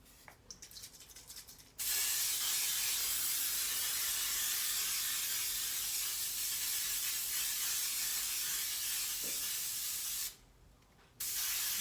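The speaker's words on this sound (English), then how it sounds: "I'm gonna spray it with non-stick spray." A steady, loud hiss of aerosol non-stick cooking spray onto a pan runs for about eight seconds, with brief quieter handling noises before and after.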